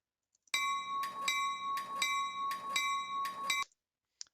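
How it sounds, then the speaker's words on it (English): A steel locomotive bell from the Trainz train game rings seven times at an even, steady rhythm, each strike bright and sustained, sounding alone and clear before stopping abruptly. "This is your bell sound."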